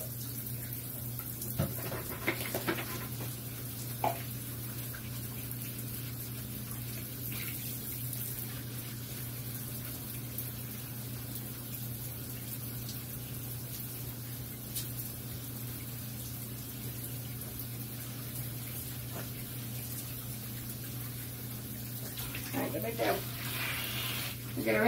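Water runs continuously from a tap as a dog is rinsed in a bathtub, a steady low hiss with occasional splashes and small knocks toward the end, with a faint background hum throughout.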